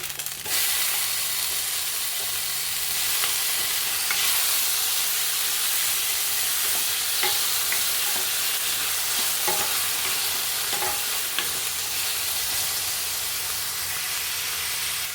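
Tomatoes cooking in a frying pan for a double beans and paneer gravy, a steady loud hiss of frying with faint scraping and stirring clicks scattered throughout, no talking.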